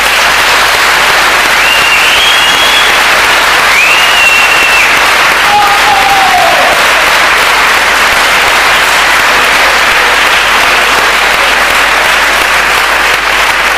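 An audience at a party event breaks into loud, sustained applause, dense clapping filling the whole stretch at a steady level, with a few whistles near the start.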